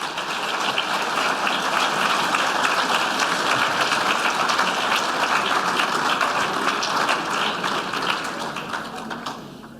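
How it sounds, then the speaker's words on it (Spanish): A large audience at a political seminar breaks into loud, sustained applause, a dense wall of clapping that stays strong for several seconds before easing slightly at the end. "Recibamos con un tremendo aplauso a este gran luchador y buen amigo Pancho"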